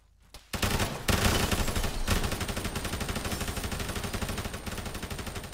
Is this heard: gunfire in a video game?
yes